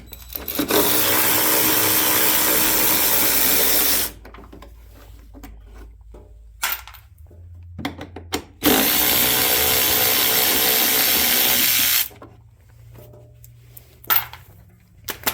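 A powered socket driver with a 3/8 socket backs out the two gas tank bolts on a Craftsman DLS 3500 riding lawn mower, running in two loud, steady whirring bursts of about four seconds each, with quiet clanks and handling noise in between.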